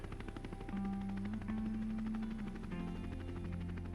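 Helicopter hovering during a mountain rescue on steep terrain, a steady loud rotor and engine drone with a sustained whine, continuous and close throughout.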